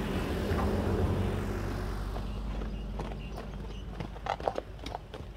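A horse walking gives a run of hoof clip-clops, louder toward the end, over a steady rumble of wind or traffic.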